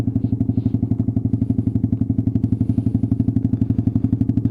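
A Suzuki Marauder 125 motorcycle idles close by in a yard while it is moved, its engine giving a loud, even, rapid low thumping pulse, with a few faint clanks on top.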